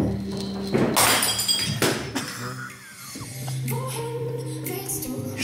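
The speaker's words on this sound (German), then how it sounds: "Also einer von den zwei hat gerade Gläser kaputt gemacht." Drinking glasses breaking in loud bursts of shattering and tinkling shards, several crashes in a row followed by lighter clinks, with tonal background music playing underneath.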